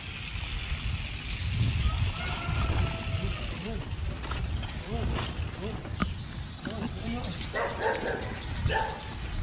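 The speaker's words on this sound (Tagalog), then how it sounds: "Uy, malaki yung aso na yun ah." A large dog barks somewhere along a rural road trip between dams, a few short barks in the back half, set against steady road and vehicle noise while people talk.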